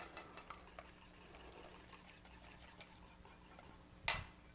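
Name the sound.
whisking melted butter into eggs in a bowl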